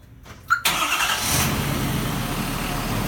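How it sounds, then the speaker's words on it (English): A 2017 Ford F-250 pickup engine cranks briefly after a sharp click on remote start, then catches and settles into a steady, loud running rumble. "A few seconds later, cranks the engine up."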